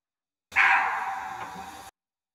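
A single muntjac deer bark-like alarm call sounds as one sustained, harsh, nasal bark lasting just over a second, fairly close and alone against silence.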